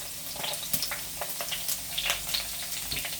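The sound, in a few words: ginger and chopped garlic frying in oil for sardine curry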